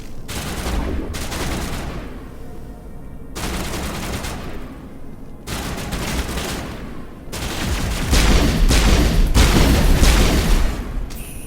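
Bursts of gunfire rip through a Mass Effect battle, loud clustered shots in several long volleys separated by brief lulls, with heavy booming impacts and no talking over them.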